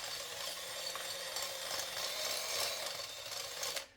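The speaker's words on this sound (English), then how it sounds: "And basically just use this old trick with the drill." A drill widens a hole in the transmission mount of a 1996 Ford Explorer, making a steady, close grinding whir that runs continuously for about four seconds before cutting off abruptly.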